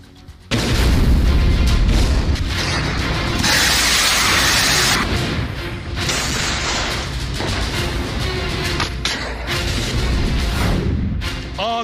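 Explosions amid wartime destruction in Ukraine during the Russia-Ukraine conflict, a sudden loud blast followed by sustained rumbling, crackling debris and fire noise with further bursts, dense and close with no voices.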